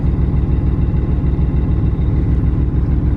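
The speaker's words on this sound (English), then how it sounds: "here is before the clutch, the stock sound difference of pedal in, pedal out" Diesel truck engine idling steadily with the stock clutch pedal pressed in, a continuous low rumble with a throbbing rhythm, close and fairly loud, no voices.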